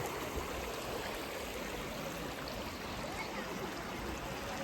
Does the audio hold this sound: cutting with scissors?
no